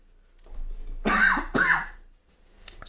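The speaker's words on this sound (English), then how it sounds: "Sorry for coughing again." A man coughs and clears his throat during a Hearts of Iron 3 World War One mod session, two harsh bursts close to the microphone followed by a faint breath, with no words.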